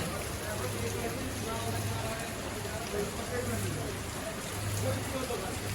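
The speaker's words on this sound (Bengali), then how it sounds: "বৃষ্টি অবস্থা বাড়তেছে।" Heavy rain falling on a flooded city road in Bangladesh, a dense continuous wash of pattering drops, with a faint voice murmuring under it.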